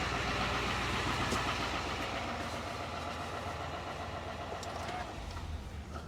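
The engine of a 2023 GMC Sierra 3500 Denali pickup truck runs at a steady idle, a constant close rumble that changes slightly near the end.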